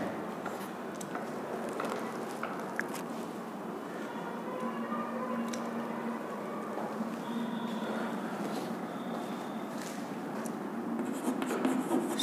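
Pen or chalk writing out a hyperbolic trigonometry equation, with steady scratchy strokes continuing alone throughout at moderate level.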